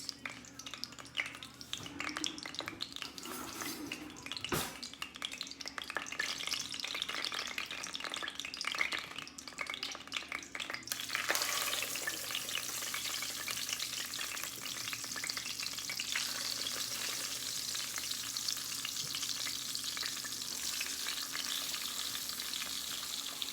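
Beef steaks for Swiss steak sear in a hot pan, a loud, dense sizzle running continuously and swelling brighter partway through, with a sharp clatter early on.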